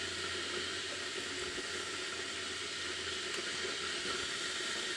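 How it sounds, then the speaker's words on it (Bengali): A gas stove burner turned on in a home kitchen, giving a low, even hiss that runs steadily without a break, quiet and alone. "প্রথমে আমাদের আগে গ্যাসটা অন করে দিতে হবে"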